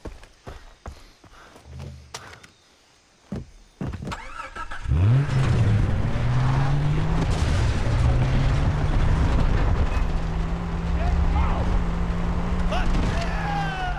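A car engine in the video game Far Cry 3 starts and then revs steadily, with rising and settling pitch that holds loud and close through most of the stretch, after brief scattered thumps and clatter.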